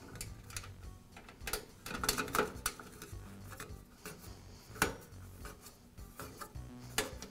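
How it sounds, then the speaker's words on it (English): Small metal clicks and scraping as a nut is threaded on to secure the reflector and grill of a NuTone vent fan-heater, close and fairly quiet, in irregular bursts with no talking. "And I'll secure the reflector and the grill with the nut"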